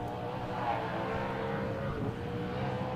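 An unlimited-class trophy truck, fresh from a Gibbs engine swap, roars away from the start line at the SCORE San Felipe 250 desert race, a steady, moderately distant engine rumble.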